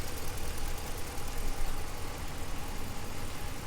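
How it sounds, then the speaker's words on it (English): A 2017 Ram 1500 Outdoorsman's V8 idles steadily up close, a dense even rumble with no break and no voices. "Nice, healthy sounding V8 engine."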